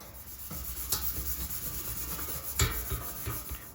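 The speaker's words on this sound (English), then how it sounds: "I've got a couple of sanding pads here. You can see I'm kind of just going to rough it up like this" Sanding pads rub back and forth over a plastic OEM Raptor skid plate, producing a close, steady scuffing rasp with a few louder strokes, and no voices over it.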